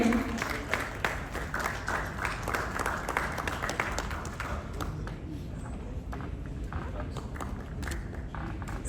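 An audience at a business conclave on skill development gives a round of applause for a man receiving a memento, a dense wash of many hands clapping that holds steady for several seconds and then thins slightly.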